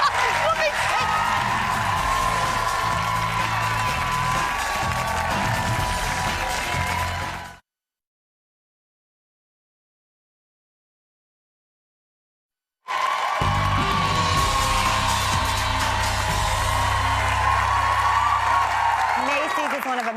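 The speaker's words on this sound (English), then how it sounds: "Big round of applause" A television studio audience applauds and cheers on a talk show, with loud, sustained clapping that breaks off into a few seconds of silence and then resumes at full strength.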